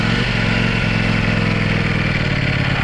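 A 2019 Ducati Panigale V4 sport bike engine in sport mode drones loudly and steadily throughout, a close, continuous rumbling idle-to-low-rev tone with no speech over it.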